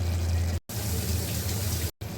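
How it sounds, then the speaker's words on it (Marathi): Hot water pours into a cooking pot of Konkani-style val beans with drumsticks and turmeric, a steady close gushing stream that stops abruptly twice in short breaks. "त्याच्यात थोडं आपण गरम पाणी टाकून टाकायचं आपल्याला"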